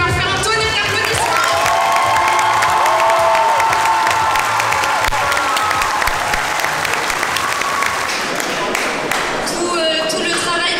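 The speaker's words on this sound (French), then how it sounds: "on peut leur faire un tonnerre d'applaudissements" Loud, sustained applause from an audience at a fashion collection show, with cheering and whoops mixed in, continuing steadily throughout with some voices and music underneath.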